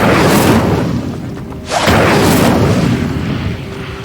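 The Incendio fire spell in Hogwarts Legacy bursts out in loud whooshing roars of flame, two surging blasts separated by a brief dip.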